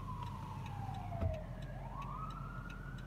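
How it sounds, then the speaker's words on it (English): A siren wails from a distance, its pitch sliding down and then rising again over a low steady rumble of traffic. "I hear sirens."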